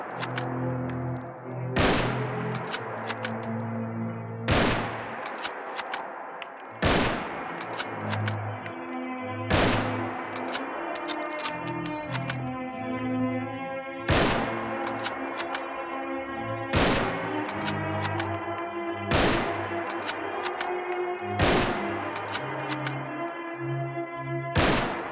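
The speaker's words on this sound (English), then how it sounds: "On the range, the Mosin Nagant was slightly faster and more accurate than the vanilla hunting rifle." Mosin Nagant bolt-action rifle fired on a shooting range in the video game Fallout 4, about nine loud, sharp reports spaced a few seconds apart, each ringing out with a long echoing tail.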